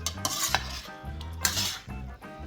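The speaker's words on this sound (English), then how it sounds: "I'm going to give it a little stir" Teriyaki chicken is stirred in a pan, a utensil scraping and clinking against the metal in several quick strokes over a low sizzle, close and without speech.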